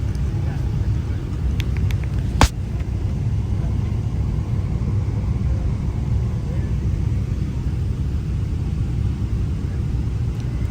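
Steady low cabin rumble of a passenger airplane on its descent toward landing, broad and constant throughout, with a brief sharp click partway through and no voices.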